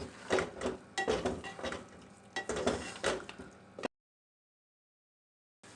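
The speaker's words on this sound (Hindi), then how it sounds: "अब मैं इसमें 1 चम्मच देसी घी डालूँगी।" Spoon stirring desi ghee into thick sohan halwa in a pan, giving bursts of scraping and soft sizzling for about four seconds before falling silent.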